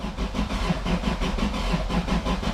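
A Toyota Supra with new turbo fixes cranks slowly on a weak battery, the starter churning in a steady rhythm of about five labored pulses per second, close and sustained, without firing. No one speaks.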